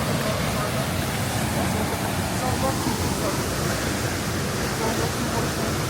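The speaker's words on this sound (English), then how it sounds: "Got a mini waterfall here" Small waterfall with a strong current in a village setting, a dense, loud, steady rush of falling water filling the whole clip without a break.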